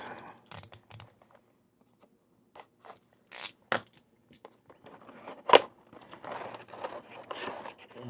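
Plastic-free cardboard packaging of a G.I. Joe Cobra Arctic B.A.T. toy is opened up close, with scattered scrapes, crinkles and a tearing rip amid short pauses.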